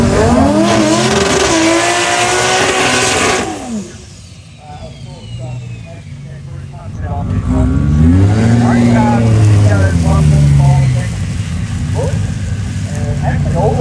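A race car at a drag strip no-prep event roars loudly while accelerating, its engine pitch sweeping and dipping, then another car rises again, with voices talking over the noise.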